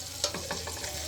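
Paneer fries in butter in a pan for matar paneer, giving a faint, close sizzle with a few light stirring clicks in one brief moment.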